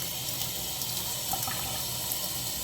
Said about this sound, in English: so I think I'm just gonna run some cold water on there